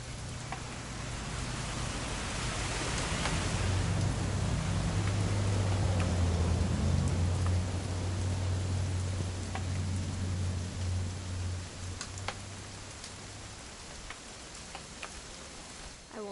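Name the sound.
rain in the video game What Remains of Edith Finch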